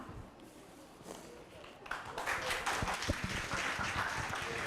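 An audience at a daytime holiday competition event breaks into applause that swells after a quiet start, steady and fairly dense, heard at a moderate distance with voices mixed in.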